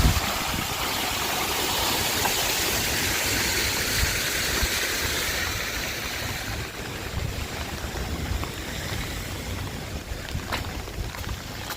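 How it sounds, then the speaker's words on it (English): A small water feature in a Seattle city park splashes as a steady rushing wash. It is loud at first, then eases slightly, with a few faint clicks toward the end. "Nice little water feature."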